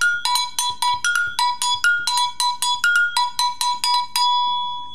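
Agogo, a West African double bell, struck in a steady, bright rhythm that alternates between its two metal pitches, with sharp ringing strikes up close and nothing else heard.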